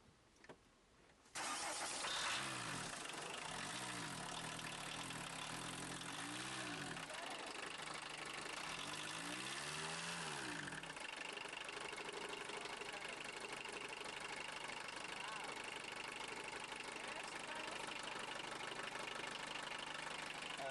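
A car engine cranks and catches after a quiet start, then settles into a loud, steady idle that runs on with a rough, slightly knocking tone, as a voice speaks nearby.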